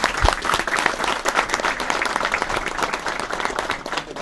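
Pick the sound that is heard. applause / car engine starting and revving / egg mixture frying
applause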